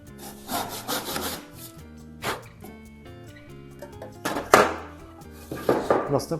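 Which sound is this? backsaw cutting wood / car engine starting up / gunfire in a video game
backsaw cutting wood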